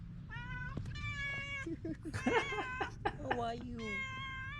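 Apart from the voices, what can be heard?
cat meowing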